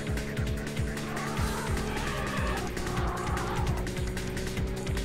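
Game tyres skid and squeal under handbrake in Need for Speed on the Sega Saturn, a steady engine drone with rhythmic low thumps running loud throughout.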